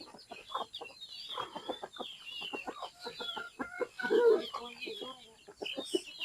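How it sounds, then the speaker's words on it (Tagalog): Chickens cluck busily close by while being fed in a rural yard, a flurry of short clucks and squawks mixed with a person talking. "pasawit talaga mga manok namin dito"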